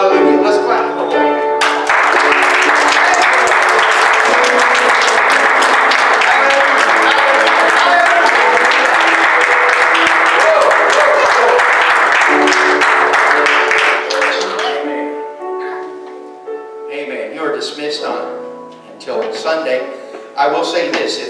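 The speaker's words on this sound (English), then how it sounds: "Let's clap for the Lord." A church congregation at a baptism service claps along steadily for about twelve seconds, the clapping blended with loud music and singing voices, then fading into quieter music.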